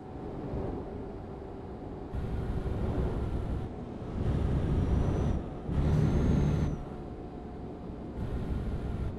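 A heavy truck in Euro Truck Simulator, hauling a load of beans, drones along with its engine swelling in several bursts, broken by short hissing brake releases, heard close and loud without talk.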